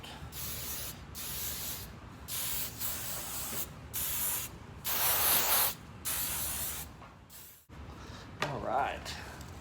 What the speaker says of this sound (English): just gonna give it a good old spraying over with the hairspray